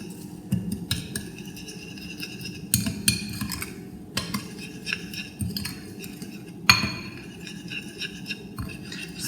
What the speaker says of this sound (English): Let's mix it all in and stir it up.